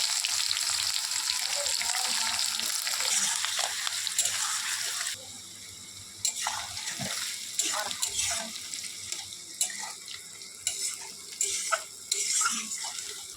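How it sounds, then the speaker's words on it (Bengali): Onions fry in hot mustard oil in a kadai with a loud, dense sizzle at first. The sizzle then turns quieter and more broken, with bursts of spattering and stirring. "এখন পেঁয়াজগুলো ভেজে নেব"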